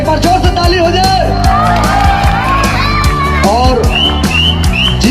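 A loud crowd at a stage show cheering, whooping and shouting in a continuous roar, with clapping mixed in and a voice talking over the din.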